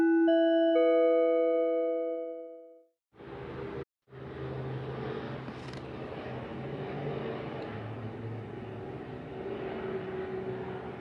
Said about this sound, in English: That is the helicopter that immediately sounds.